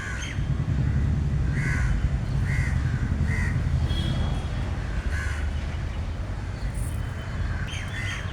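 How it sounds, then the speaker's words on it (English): A crow caws repeatedly outdoors in spring, harsh calls recurring in short bursts over steady low background rumble, with a few other birds chirping faintly and no talking. "Look at this crow carrying such a big stem."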